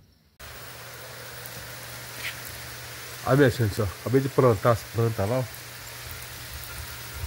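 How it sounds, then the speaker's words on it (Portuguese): Steady rain falls over a farm plot of cassava and corn on a Sunday, a constant soft hiss throughout, while someone talks briefly over it partway through. "A chuva que tá caindo aqui"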